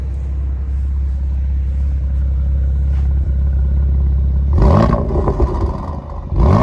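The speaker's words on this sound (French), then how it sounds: "Il fallait filmer une petite accélération." A BMW Z4 with a 306 hp engine sits at a low, steady idle rumble before abruptly accelerating into a loud revving roar with clattering mechanical noise.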